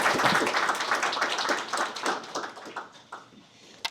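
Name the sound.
round of applause for Mark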